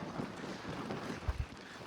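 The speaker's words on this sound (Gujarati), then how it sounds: "બહુ પવન છે ભાઈ" Steady broadband wind buffeting the microphone outdoors at Key Monastery in Spiti Valley, Himachal Pradesh, with a couple of low thumps near the end and no talking.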